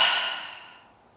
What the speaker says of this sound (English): Open the mouth and exhale through the mouth.